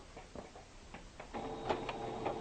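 Sewing machine stitching a fabric seam, a quiet, close run of rapid mechanical ticking and whirring that grows slightly louder toward the end.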